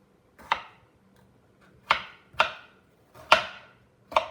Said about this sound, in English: These are some fresh red potatoes. Just doing a small chop.